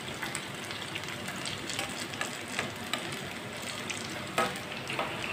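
A flatbread frying in an oiled pan as it browns on both sides makes a continuous close sizzle with fine crackles and a few sharper pops, and no talking.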